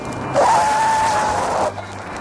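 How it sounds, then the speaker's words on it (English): A 1971 Holden HQ car brakes hard in a panic stop from 50 mph, tyres squealing in one sustained, fairly loud screech lasting just over a second before fading. "Just listen to a full panic stop from 50 miles an hour."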